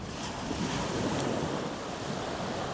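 Ocean waves wash onto a beach during beach camping and surf fishing, a steady, fairly soft roar of surf mixed with wind buffeting the microphone, with no voices.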